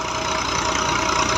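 Massey 240 tractor engine running steadily while threshing wheat, a loud, continuous mechanical drone with a dense, even rumble and no pauses throughout.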